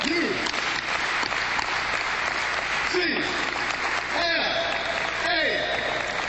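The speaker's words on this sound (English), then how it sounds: "Can we do an 8 clap?" A crowd at UCLA's Pauley Pavilion claps out the 8 clap, rhythmic group clapping in a steady pattern, with voices calling out over the crowd in a large, reverberant arena.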